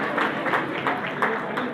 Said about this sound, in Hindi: ताली बजा के अभिनंदन करें आप।